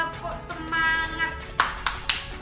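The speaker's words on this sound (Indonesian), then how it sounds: "Tepuk semangat." In a classroom science lesson, a teacher's voice is followed by three sharp, evenly spaced hand claps of a rhythmic spirit-raising clap routine, close and fairly quiet.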